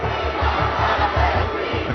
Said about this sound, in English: A crowd gathers at Kensington Town Hall.